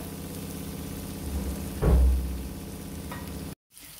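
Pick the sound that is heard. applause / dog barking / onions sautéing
onions sautéing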